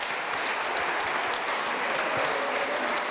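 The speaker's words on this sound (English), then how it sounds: "Ja, Applaus für Herrn Weißbrot, bitteschön" Dense, even audience applause at a film festival award ceremony, a continuous wash of many hands clapping at steady loudness with no talk over it.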